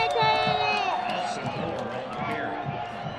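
A crowd at a high school football game cheers and whoops in a lively burst, with shouts and voices mixed in at moderate distance and people talking nearby.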